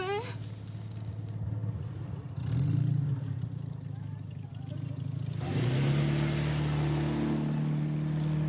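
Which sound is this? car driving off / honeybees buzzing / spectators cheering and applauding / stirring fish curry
car driving off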